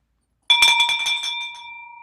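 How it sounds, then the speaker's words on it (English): A bell is struck once in celebration, giving a bright, clear ring that hangs in the air and slowly fades, heard alone. "let's ring that bell"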